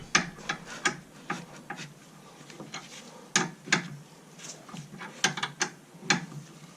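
Inner tie rod being screwed into the steering rack of a 2001 Golf Mk4 GTI, producing a steady series of close mechanical ratcheting clicks in an uneven rhythm, with no speech.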